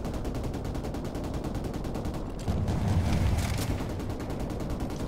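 Gunfire in the Call of Duty 4: Modern Warfare Remastered campaign, a loud, dense burst of shotgun and other weapon blasts that swells midway, set against a steady battle din.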